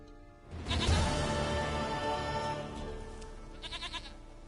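A goat in The Witcher 3 video game gives one long, loud, wavering bleat, with a couple of shorter quavering bleats near the end and no talking.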